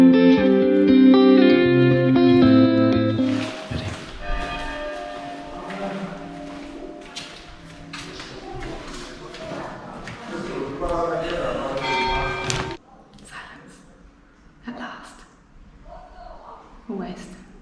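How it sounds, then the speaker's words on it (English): Church bells in Oia, Santorini, Greece ring out with sustained, reverberant tones, loud at first and then layered with overlapping chimes that fade into quieter, scattered strokes. "the church bells just started ringing throughout this whole area"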